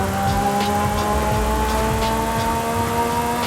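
A 1200 hp twin-turbo Lamborghini Countach in Forza Horizon 5 holds a loud, steady high-pitched engine scream with sustained harmonic tones and little change in pitch, without any talking.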